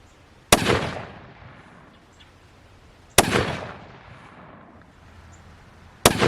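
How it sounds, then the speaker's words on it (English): Three sharp, loud rifle shots from a 270 WSM fired with an overmax IMR 4350 load, each a sudden crack followed by a rolling echo, spaced a few seconds apart outdoors. "I'm going to go ahead and shoot the last 3"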